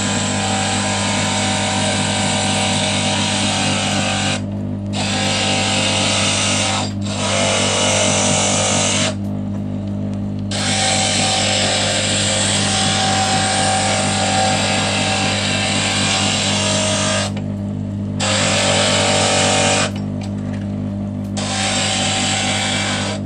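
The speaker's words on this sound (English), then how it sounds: "I've got a piece here and I'm going to use it on the glass grinder" A stained glass grinder hums continuously while a glass piece's edges are ground, with a loud steady motor drone and harsh gritty rasping that drops out briefly several times as the piece is lifted away.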